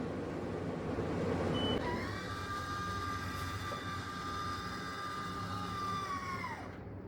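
A Maxxfan roof vent fan is switched off, its steady motor whine sounding over a broad rushing airflow before it slides down and cuts out near the end.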